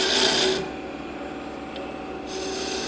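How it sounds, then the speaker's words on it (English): A skew chisel pares wood on a lathe, giving a short burst of hissing shaving followed by the lathe's steady hum and then a second cut starting up, close by. "Use my skew for a paring cut."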